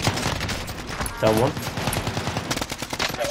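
Rapid automatic gunfire bursts in the video game Call of Duty: Warzone, dense and fairly loud, with players talking over the shooting.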